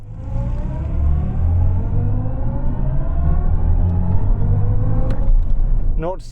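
A 4.4-litre twin-turbo V8 hybrid car launches from launch control, a loud deep engine roar rising steadily in pitch as it accelerates hard, ending with a brief high whine near the close.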